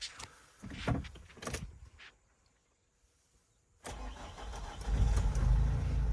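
A 2011 Renault Trafic passenger van with a 2.0 diesel engine cranks and fires up after a quiet pause, settling into a loud, steady idle heard close up inside the cab, preceded by a few clicks and clunks.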